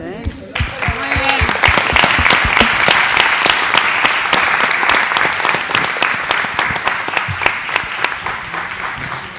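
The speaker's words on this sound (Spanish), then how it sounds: "creo que el aplauso es para vos y todos tus colaboradores" Sustained audience applause at an academic discourse-studies colloquium, a dense crowd of hands clapping loudly and steadily for about nine seconds, with a brief voice at the very start before the clapping takes over.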